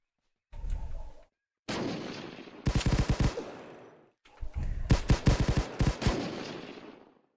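Video game gunfire in loud, rapid bursts of sharp repeated shots separated by short silent gaps, close and heavy with no talking.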